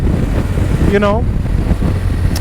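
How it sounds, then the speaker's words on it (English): Strong wind buffets the microphone with a constant low roar on a motorcycle tour, and a brief voice-like tone rises and falls in the middle. "it's extremely windy today"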